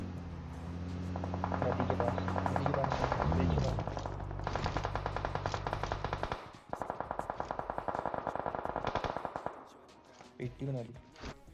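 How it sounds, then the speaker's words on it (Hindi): Rapid bursts of machine-gun fire in the video game PUBG Mobile rattle in several long volleys from a bridge, with a helicopter-like drone underneath and a couple of short sharp bursts at the end. "ब्रिज से यार गोली चलने की आवाजें आती हैं।"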